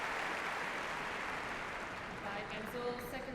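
Wimbledon crowd at the 2012 quarter-final between Sabine Lisicki and Angelique Kerber, a broad, distant wash of applause and scattered cheering sustained across a few seconds.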